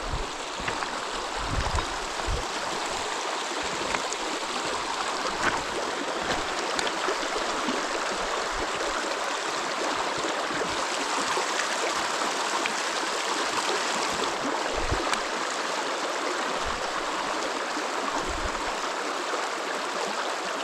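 A river where trout are fished flows steadily, a broad, continuous rushing wash of water with gurgling texture, close and even in level throughout, with no talking.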